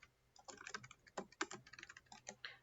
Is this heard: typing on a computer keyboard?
yes